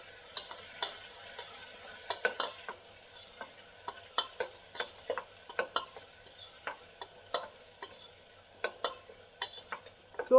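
Vegetables being stirred with salt and turmeric in a pan, a quiet low hiss under frequent sharp clicks and scrapes of a spoon against the metal, close and irregular.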